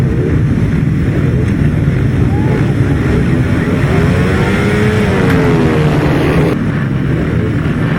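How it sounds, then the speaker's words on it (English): Several 500cc solo grasstrack motorcycles rev together at the start of a race, a loud, continuous roar with rising and falling engine pitch, heavy wind noise, and an announcer's voice faintly under it. "Engines begin to pick up the revs, the starters move away they go."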